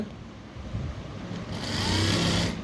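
A sewing machine stitches a blouse sleeve, a soft close motor hum that builds and grows louder and brighter partway through.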